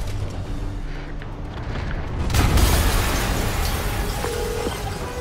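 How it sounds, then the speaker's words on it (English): An explosion in the Spider-Man PS4 video game booms out, swelling into a loud, broad rumble that lingers over a steady noisy background, with no talk. "an explosion just."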